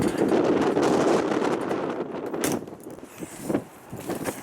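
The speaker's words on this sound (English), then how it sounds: "So I know this is going to be windy and noisy." Strong wind buffets the microphone in loud rumbling gusts at a trailer, with occasional creaks and rattles close by.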